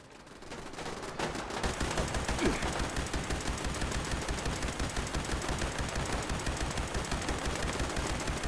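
Rapid sustained automatic gunfire in the video game Fallout 76, a dense run of loud, evenly spaced shots firing almost continuously for several seconds, with no talk over it.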